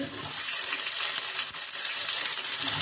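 Garlic and onion hit hot oil already crackling with cumin seeds, giving a loud, steady broadband sizzle that runs unbroken throughout, with a few sharper spits and pops near the middle and no voices.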